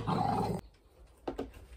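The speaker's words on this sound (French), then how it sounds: "petite interruption, chien qui jappe" A dog barks indoors during a home vlog: one loud growly bark up front, then quiet, then two shorter barks in quick succession.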